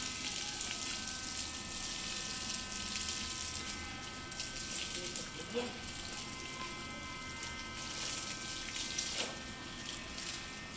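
Water runs steadily from a tap while something is washed, a continuous hissing splash with a faint pump hum underneath, close and sustained throughout.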